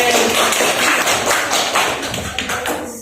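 A classroom of schoolchildren claps for a student, a dense, loud patter of many hands that fades slightly toward the end.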